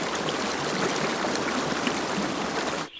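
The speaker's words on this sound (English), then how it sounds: "Water shot out of the shadowy walls the colour of clay and roared among the" Steady roaring rush of water tumbling among rocks in a spring forest stream, loud and close, then dropping off abruptly at the end.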